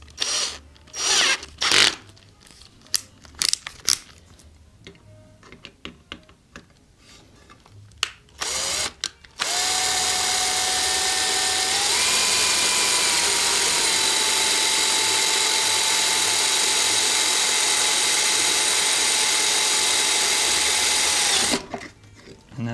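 A power drill whirs loudly and continuously for about ten seconds, drilling holes during a bass speaker repair, its pitch wavering slightly as it bites, after a series of short scraping and clicking handling noises.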